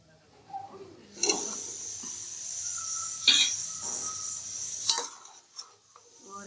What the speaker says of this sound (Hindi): और इसी तरह चनों को भून के